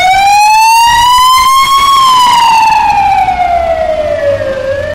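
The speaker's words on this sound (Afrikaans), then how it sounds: "Het jy al opgelet hoe 'n motor of ambulans anders klink wanneer dit na jou toe kom en dan skielik laer klink wanneer dit verby jou ry?" An ambulance siren wails loudly and close as the vehicle passes, its pitch climbing slightly and then sliding steadily lower as it moves away, over a low road rumble.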